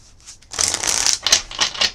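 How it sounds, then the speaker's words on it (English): A deck of cards is shuffled close by, a soft rustle followed by a dense, crisp riffling burst of about a second and a few quick flutters, with no talking. "I'm going to shuffle 5 times."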